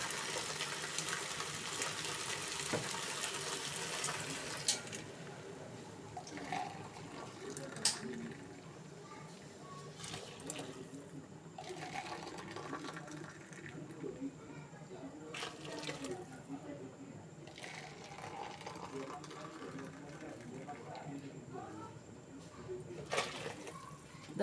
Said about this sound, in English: Now I'll put 4 cups of water.